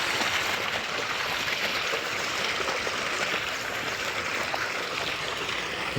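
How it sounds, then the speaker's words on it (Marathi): Irrigation water running along a field channel toward sugarcane on a farm, a steady, dense burbling rush with a continuous broadband wash, close and even throughout without voices. "हे जे पाणी आहे हे चाललं आहे ऊसाला"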